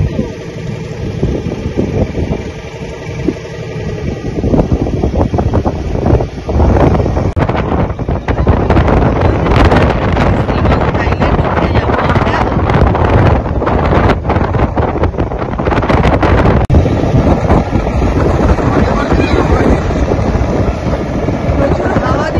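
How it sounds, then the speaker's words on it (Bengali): Strong wind buffets the microphone at Chilika Lake in Odisha, a loud, continuous roar with gusting swells that fill the whole clip, a faint engine-like hum blending in underneath. "প্রচুর হাওয়া দিচ্ছে, ওই জন্য করছে এত।"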